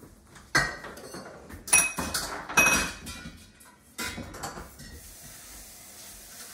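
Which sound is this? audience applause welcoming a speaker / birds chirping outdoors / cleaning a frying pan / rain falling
cleaning a frying pan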